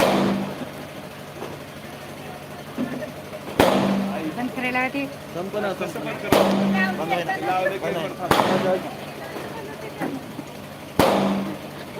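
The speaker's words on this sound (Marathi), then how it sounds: "किती कोटीच्या फटाके लावल्यात मला माहित नाही" Sharp loud bangs of firecrackers burst at irregular intervals during a minister's speech, each with a short ringing tail, while people talk and a voice carries between blasts.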